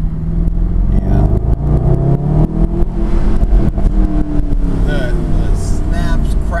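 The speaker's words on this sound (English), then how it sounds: "The snaps, crackles, pops, burbles out of the exhaust are fantastic." A 2012 Mercedes SLS AMG engine revs loudly and steadily close by, with sharp exhaust crackles and burbles scattered through, while someone talks over it.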